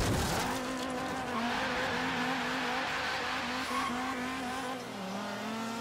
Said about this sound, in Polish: Na pełnym gazie ruszyłem, na pełnych obrotach.